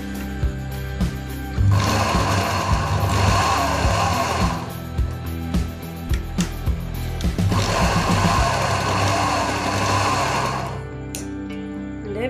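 Sewing machine stitching the nosepiece of a fabric niqab, running in two long steady bursts with a pause between, close and fairly loud with a low mechanical hum throughout.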